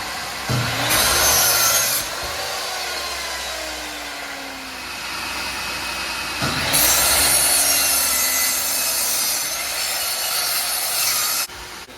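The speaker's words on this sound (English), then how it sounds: "Turn this saw on, so it's going to get loud." A power saw cuts through wood with a loud rasping whine, easing off midway and then biting again, with no talking.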